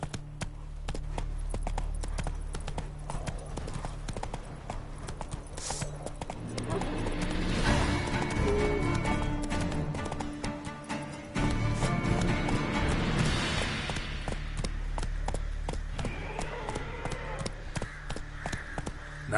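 Hooves of Roach, the horse in the video game The Witcher 3, clip-clopping in a fast steady rhythm throughout, with a rushing wind-like swell midway and game voices speaking over it.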